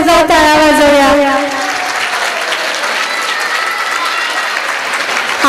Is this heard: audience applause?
yes